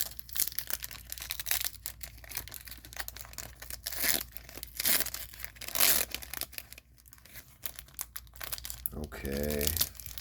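Foil wrapper of an Ultraverse trading card pack crinkling and tearing open up close, with bursts of rustling and crinkling throughout and a short vocal sound near the end.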